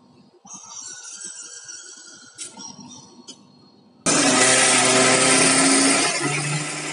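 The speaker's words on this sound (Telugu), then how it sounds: "కొంచెం మధ్య మధ్యలో వాటర్ యాడ్ చేసుకుంటూ బాగా వీలైనంత మెత్త స్మూత్గా గ్రైండ్ చేద్దాం." A mixer grinder whirs loudly while grinding pearl millet and urad dal into dosa batter, starting abruptly after quieter kitchen clatter and high whining tones, then running as a steady harsh roar to the end.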